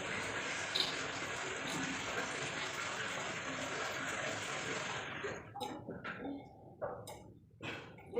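Water is drawn and poured into a bucket, first as a steady, rushing fill that then breaks into a few splashes, drips and knocks near the end.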